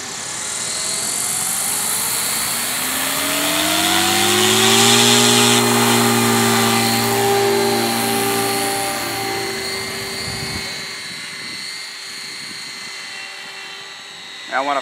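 A Goblin 380 RC helicopter fitted with a Skookum 720 GPS unit whines loudly overhead as its rotor pitch climbs, peaks and falls during flight. The tone holds steady and close, then fades, and a brief voice is heard at the end.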